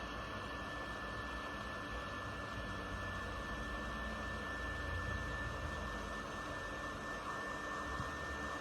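Hot air blowing steadily inside a Samsung Galaxy Xcover 5 phone during repair, a constant close whooshing drone with a faint high whine, unbroken throughout and without speech.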